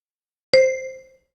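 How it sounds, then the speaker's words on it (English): A single bright chime rings out in a language-learning app to cue a speaking exercise, a clean struck tone with clear overtones that decays over about half a second after silence. "Wait for the bell and then repeat after Paul."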